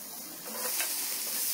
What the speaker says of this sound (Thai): ตอนนี้หอมใหญ่ผัดเนย